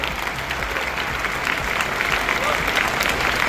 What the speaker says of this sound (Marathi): एकदा जोरदार टाळ्या वाजवा आपल्या मायबापासाठी